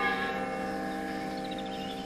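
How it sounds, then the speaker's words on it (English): A church bell rings out with a sustained, resonant tone that hangs steadily over the whole moment, bright overtones shimmering above a deep hum, no voices heard. "The first bell of Ramir."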